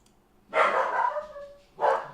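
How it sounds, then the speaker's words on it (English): A dog named Maxie gives two loud, close barks, the first drawn out into a yelping whine and the second short, with quiet room tone around them. "Maxie's barking."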